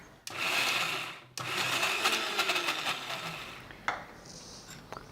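Mixer grinder grinding chutney for besan khakhra, whirring loudly in two runs with a short stop between them, then a few clinks of the jar as it winds down.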